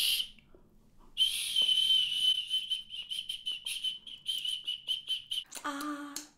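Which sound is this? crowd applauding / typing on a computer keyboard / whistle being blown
whistle being blown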